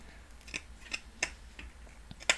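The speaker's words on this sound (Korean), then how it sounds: "일반 가위로 하실 때는 이렇게 여러 군데로 돌려주면서 칼집을 내주시고요" Ordinary scissors snip notches into fuzzy pipe cleaner wire, a series of six sharp, close, faint clicks spaced about a third of a second apart.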